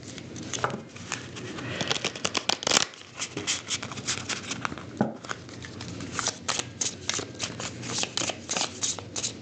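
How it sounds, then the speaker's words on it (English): Playing cards are shuffled repeatedly in quick riffling bursts, close and crisp, with short pauses between passes. "One more shuffle."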